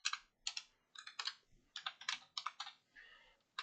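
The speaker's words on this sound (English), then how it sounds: "We're going to type in the type of the domain we're pushing" Close typing on a computer keyboard, quick bursts of crisp key clicks in irregular runs with short pauses between them, heard alone.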